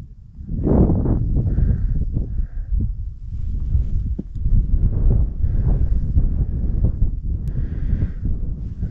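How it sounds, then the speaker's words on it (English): Wind gusts roar across a snowy mountain summit on Guadalupe Peak, a steady loud buffeting against the microphone with rising and falling surges and no talk. "It's a little windy up here, but it's really not bad."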